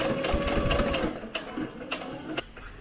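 A sewing machine runs steadily, stitching a seam on a small maxi dress for an American Girl doll, with a rhythmic mechanical whir and a few sharper clicks as it slows near the end.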